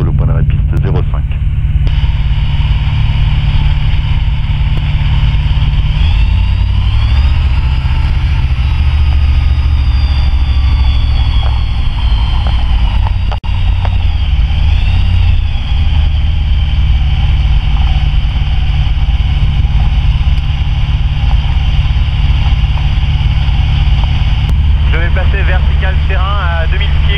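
Light aircraft engine running steadily and loudly on the ground while taxiing toward runway 05, a constant droning rumble with a slight pitch rise midway, under radio-style talk in the cockpit.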